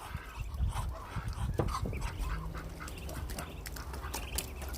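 A flock of ducks quacks close by in a busy, overlapping chorus of calls that runs throughout, with some goose-like honks mixed in and no talking.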